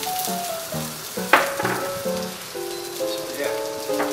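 Sliced red onion hits hot oil in an iron wok, crackling and sizzling loudly up close, with a burst of spatter as it is tossed and stirred and music playing underneath.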